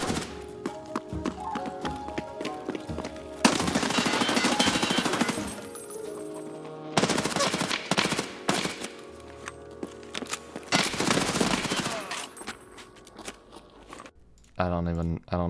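Bursts of automatic weapon fire in the video game Escape from Tarkov, several rapid volleys separated by pauses, loud and close, mixed with clicks and clatter.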